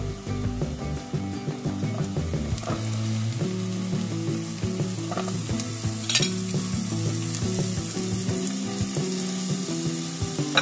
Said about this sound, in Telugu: అల్లం వెల్లుల్లి పేస్ట్ మగ్గిపోయిందండి. ఇప్పుడు ఇందులో ముక్కలు వేసేసుకుందాం.